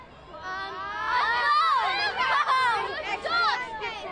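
A large outdoor holiday crowd on a closed-off Park Avenue in Winter Park shouts Christmas wishes toward Santa Claus, a loud overlapping roar of many voices, children among them, swelling and holding for several seconds.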